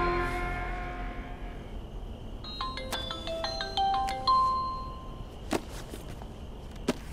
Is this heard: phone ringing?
yes